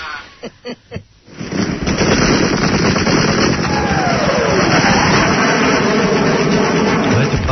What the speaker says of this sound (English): Let the bombing begin.